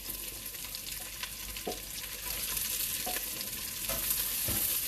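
Onions sautéing in a pot of rendered bacon fat give off a steady, even sizzle and crackle, with occasional soft scrapes of stirring, close and continuous without talk.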